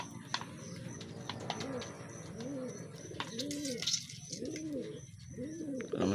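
A racing pigeon returning from a training flight in Tayug, Pangasinan coos in a series of soft, rolling, repeated calls close by, with faint clicks and background noise around them.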